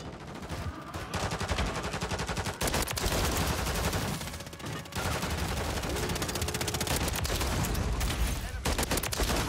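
Holger 556 rifle fire in Modern Warfare 3, sustained rapid automatic bursts with brief gaps between strings, loud and close. Game effects sound underneath and a faint voice is present.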